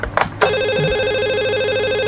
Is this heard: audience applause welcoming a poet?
no